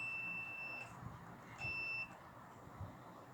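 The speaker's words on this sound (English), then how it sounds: "This one give me buzzer. So that's proof that this wire is still okay." Continuity tester buzzer sounding while the wires of a wall fan are checked during repair, two steady electronic beeps, the first about a second long and the second shorter, close by in a quiet room.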